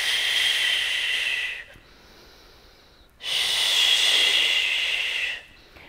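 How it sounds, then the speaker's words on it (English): Someone exhales hard while pushing a resistance band straight out during post-cesarean fitness exercise: two long, close, breathy hisses, each lasting under two seconds and separated by a quiet pause. "exhale to push the band straight out"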